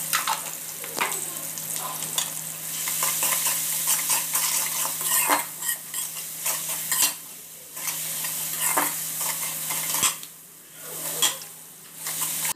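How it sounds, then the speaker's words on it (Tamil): Onions sauté with salt in a pan, a soft continuous sizzle broken by repeated scraping and clinking of a spoon against the pan as they are stirred. "வெங்காயம் குயிக்காக வதங்கணும் அப்படின்னா கொஞ்சம் சால்ட் சேர்த்து வதக்குங்க"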